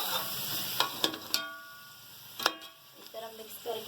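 Ginger-garlic masala stirred in a hot pan for Delhi-style degi chicken korma, with a soft sizzle under sharp clicks and scrapes of a spoon against the pan, close and intermittent.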